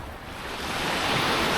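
Ocean surf rolls onto a beach at Marang, a broad, steady wash of noise that swells as a wave breaks, loud and close, with some wind and no voices.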